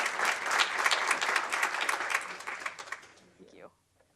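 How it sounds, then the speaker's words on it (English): Audience applause at a leadership institute graduation and recognition ceremony, dense clapping from a crowd that holds steady, then thins and dies away near the end. "Please give him a big round of applause."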